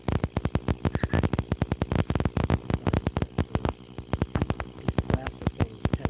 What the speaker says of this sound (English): I'm going to take this whole thing and just toss it right in the ultrasonic cleaner